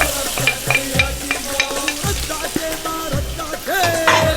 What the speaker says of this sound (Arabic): كمان بدي أحمس اللحمة.